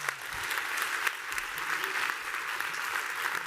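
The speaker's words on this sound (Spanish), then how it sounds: "Fuerte aplauso." Sustained applause from an auditorium audience at the close of an energy and geostrategy conference session, dense and even, with a faint murmur of voices beneath.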